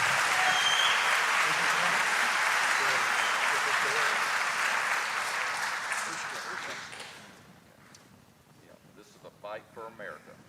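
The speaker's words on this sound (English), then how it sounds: "Give a round of applause." Audience at a South Carolina faith candidate forum breaks into sustained, dense applause that gradually fades out, followed by a few voices and scattered sounds in a quieter room.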